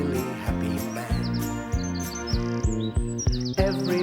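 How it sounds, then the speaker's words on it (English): Birds chirp and tweet in quick, high repeated calls over a steady, bouncy instrumental theme song from a 1994 children's animated special, the song carrying the clip and the birdsong riding on top of it. "All the birds are singing, and the day is just beginning."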